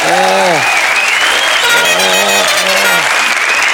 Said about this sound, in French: On applaudit Thierry Ardisson qui sera bientôt parmi nous